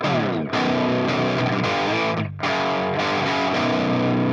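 Gritty, heavily distorted electric guitar chords through a Boss HM-2 pedal strummed loudly with brief pauses between them, the tone buzzing and saturated.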